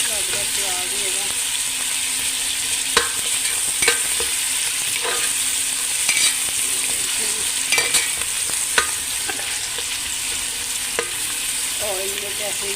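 Onions frying in a little oil for dhaba-style urad dal mash: a loud, even hiss and crackle with occasional sharp pops, and a faint voice in the background.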